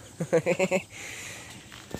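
A goat bleats close by in a quick, wavering series of four or five pulses, followed by quiet background noise.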